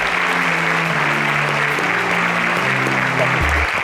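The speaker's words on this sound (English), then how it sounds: "Please give them a round of applause as they" A studio audience applauds departing contestants on a quiz show, a brief burst of dense clapping with a tonal musical sting playing underneath throughout.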